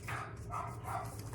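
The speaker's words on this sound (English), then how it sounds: "I'm sorry if you can hear the dogs barking." Dogs bark indoors, three muffled, mid-distance woofs spaced evenly over a low room hum.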